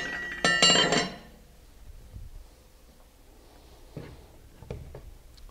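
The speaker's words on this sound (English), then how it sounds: "Next, I will install the liner support ring." A metal liner support ring is set into place on a Hosokawa Mikro ACM air classifying mill. One sharp, bright metallic clink rings out near the start, followed by faint scattered taps and knocks, with no talk.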